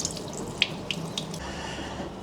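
Water from a tap pours onto a grease-coated gear during a water resistance test, a steady close splashing stream with a few sharp droplet hits and spatters.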